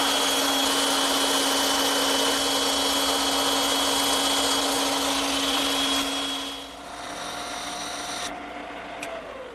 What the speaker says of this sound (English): this drum sander attachment on my drill press does a good job smoothing out any of the imperfections